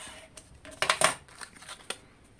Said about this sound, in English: So again, cut an opening and cut the shape out.